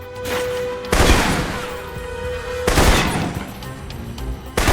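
Assault rifle gunfire in the video game Alpha Protocol, loud bursts of shots in several rapid volleys separated by short pauses, close and sharp over a faint background tone.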